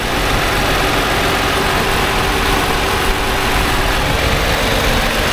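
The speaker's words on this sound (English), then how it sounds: "You can hear the direct injection just tap, tap, tap, tap, tap, tap, tap." A direct-injection engine of a flood-damaged 2020 Dodge Challenger R/T idles steadily at close range, a smooth constant hum with a faint rapid ticking running through it, and no voices.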